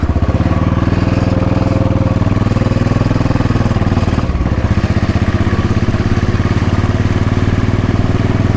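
A Royal Enfield Bullet 500 single-cylinder engine thumps steadily while riding over Ireland's Conor Pass, a loud, close, even pulse that dips briefly before picking up again.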